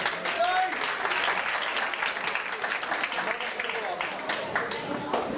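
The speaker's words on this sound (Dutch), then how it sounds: "Geef hem even een daverend applaus." An audience at a dance competition finale breaks into sustained applause, steady and fairly full, with a voice speaking over it.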